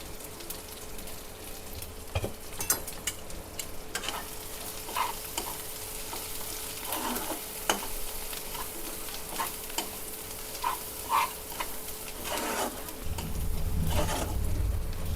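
Steady sautéing in a frying pan for Bengali prawn malai curry: continuous soft sizzle with scraping stirs throughout, a faint dove cooing nearby, and the frying swelling louder near the end.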